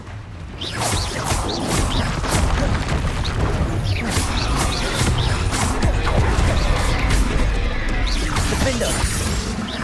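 Repeated explosive spells go off in Hogwarts Legacy combat: a steady run of sharp blasts, crashes and whooshes one after another, loud and dense with a booming low end throughout.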